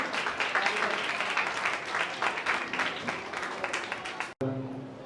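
Audience applause at a school event, dense steady clapping from a crowd of teachers, parents and children filling most of the moment, then cutting off abruptly as a voice begins speaking over a brief hum.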